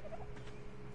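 A rapid, warbling bird gobble from a creature in the ARK survival game, heard once at moderate level over a low steady background hum.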